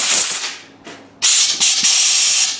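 Compressed air blasts through a steel braided Teflon fuel hose, several loud hissing bursts with short gaps, close by.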